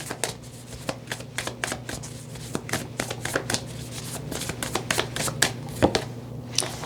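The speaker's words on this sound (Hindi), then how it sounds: "आपके एस्ट्रोलॉजिकल कार्ड्स भी देख लेते हैं" Astrological cards are shuffled close up, a rapid run of crisp riffling snaps and flutters going on throughout at a steady pace over a faint constant hum, with no talking.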